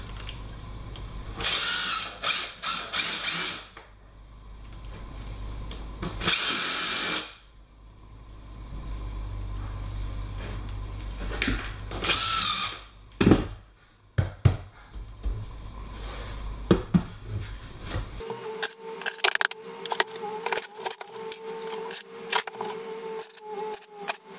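Power drill driving screws into a shower bench frame, several bursts of whirring with pauses between them, close and loud with no talk.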